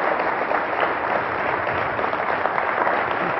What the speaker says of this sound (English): please give a rousing round of applause to Roslyn Brock